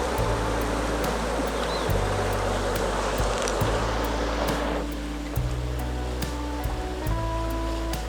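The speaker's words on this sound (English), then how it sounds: "We descend to a mountain stream, fast, cold, pure." A fast, cold mountain stream in the Tatras, fed by snowmelt, rushes steadily over stones with a dense, continuous roar close by. The wash shifts slightly partway through, and a low tonal hum runs underneath.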